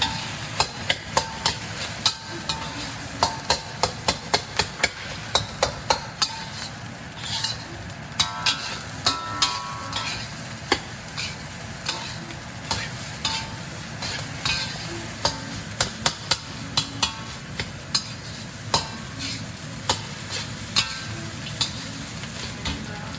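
A spatula or spoon stirs oyster sauce through crab, Chinese sausage and egg fried rice in a hot pan, giving a steady sizzle broken by many sharp clacks and scrapes, close and continuous throughout.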